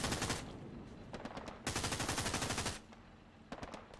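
Bursts of automatic gunfire from a Hell Let Loose battle, with dense rapid rattling in several long strings broken by short pauses, loud and close.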